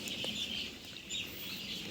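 Chickens on a poultry farm, with scattered clucks and chirps from the birds at moderate distance over a faint steady background hum.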